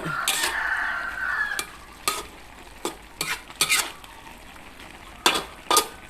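Spring onions, onion flowers and straw mushrooms stir-fry in a hot pan: a steady close sizzle runs under sharp, irregular scrapes and clacks of a utensil against the pan, coming in short bursts.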